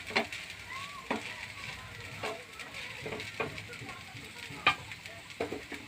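Poha, flattened rice, cooking in a pan on a low flame: a soft steady sizzle with occasional sharper ticks and scrapes close by, and no talking.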